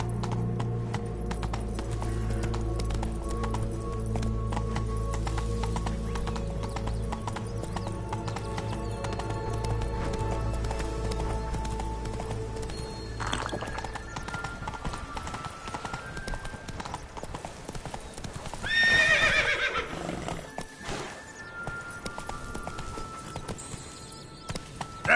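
Roach the horse gallops in The Witcher 3, a steady, close run of clip-clopping hooves with a brief whinny near the end.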